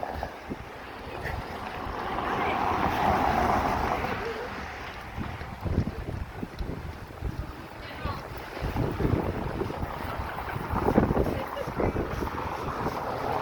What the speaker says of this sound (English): It's nice with the waves all going.